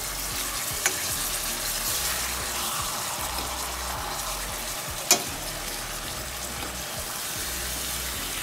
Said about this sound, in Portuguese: coloco todos os bifes na frigideira e vou fritar de um lado e do outro